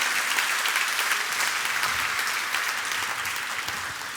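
A church congregation bursts into loud, sustained applause, dense clapping that fills the space and slowly eases off without any voices over it.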